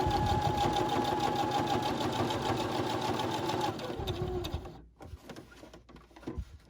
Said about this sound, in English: And then I'm going to pivot and sew around each corner.